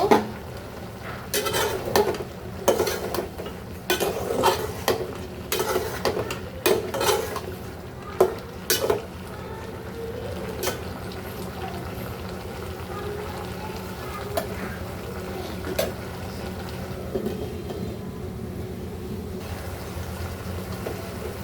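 Shrimp and ash gourd being stirred in a pan, with a run of loud metal spoon scrapes and clinks against the pot early on, then a softer, steady simmering sizzle alone.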